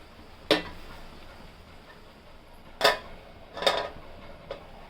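A lid goes onto a pan of chilli mushroom with a few sharp metallic clinks and taps, spaced apart and close, with no talking.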